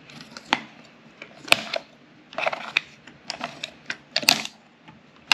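Oil filters being cut open by hand make a series of sharp, irregular snips, cracks and crunches of metal, close and fairly quiet, in quick uneven bursts.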